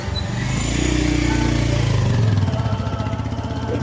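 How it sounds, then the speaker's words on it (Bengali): A motorcycle passes along a repaired village road beside a canal at Hanskhali, its engine loud and close with a rising, then falling, drone over roughly three seconds before it fades away. "দাঁড়া বাইকটা চলে যা।"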